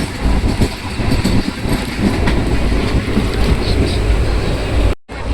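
A passenger train rolls along, heard from inside a carriage: a loud, steady rumble with faint wheel clatter, briefly cut off near the end.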